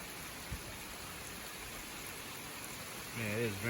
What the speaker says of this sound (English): Yeah, it is raining hard.